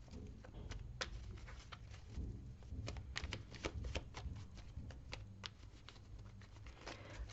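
Tarot cards being shuffled by hand during a reading, a steady close run of soft riffling flicks and papery slaps that lasts throughout at low volume, with no voice.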